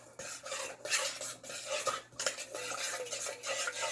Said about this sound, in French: On fait tout simplement mélanger tous les ingrédients